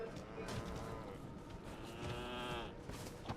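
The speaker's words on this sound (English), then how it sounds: "Totally normal sheep." Strange sheep-like creatures in Elden Ring: Shadow of the Erdtree let out drawn-out, moaning bleats over a constant low game ambience, one call following another at moderate loudness.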